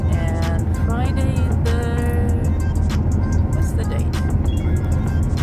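Steady loud car interior drone while driving along a road in Wales, continuous engine and road rumble with some brief tonal squeaks over it, no speech.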